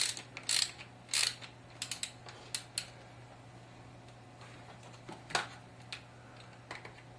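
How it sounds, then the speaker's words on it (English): Ratchet driver clicking as it turns a screw into a Tamiya TB04 radio-control car chassis, with short bursts of sharp close ratcheting clicks separated by pauses. "Use a ratchet driver to get it in the rest of the way."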